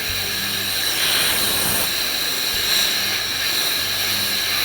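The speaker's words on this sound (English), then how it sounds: "I'll blow it through for a few seconds to ensure that I get all the fuel out of the cylinder" A steady, loud rush of compressed air blown through the spark plug hole of a flooded chainsaw cylinder to clear fuel, a continuous broadband hiss lasting several seconds with a faint mechanical hum beneath.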